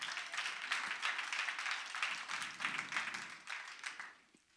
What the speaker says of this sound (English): Give the Lord a praise clap